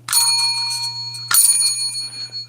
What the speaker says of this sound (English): That is a silver bell. Okay, and listen to it when it rings.